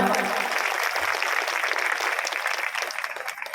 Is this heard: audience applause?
yes